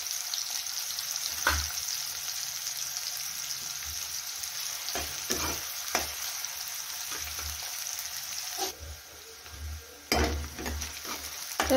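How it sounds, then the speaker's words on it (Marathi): Onion frying in hot oil gives a dense, continuous sizzle and crackle, with intermittent stirring scrapes and pan knocks, close-up and steady throughout with no voices. "कांदा टाकून घेऊया. कांदा छान असा फ्राय करून घेऊया."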